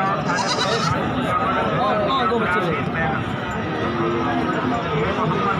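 Goats, including does with young kids, bleat at a crowded goat market in Ludan amid continuous crowd chatter, steady human voices and general livestock commotion.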